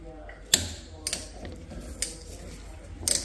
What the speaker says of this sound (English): we've got our ratchet on the left side here. I'm just going to break that nut